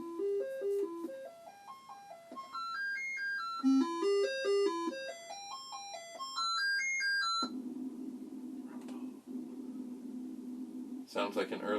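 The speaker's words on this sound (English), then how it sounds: "Sounds like an early SID chip with a gentle rumble." Early Commodore 64 SID chip tones play quick stepping arpeggio melodies in bright square-wave beeps, then give way to a low steady rumble with a faint buzz; a voice speaks over parts of it.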